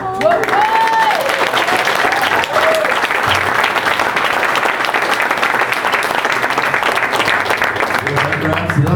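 Sustained audience applause at a Nightmare on Elm Street fan convention panel, loud and dense throughout, with cheering voices and whoops mixed into the crowd noise.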